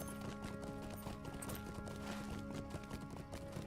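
Horse hooves clip-clop in a steady walking rhythm in the Lord of the Rings Online video game, quiet and fairly close, with no talking.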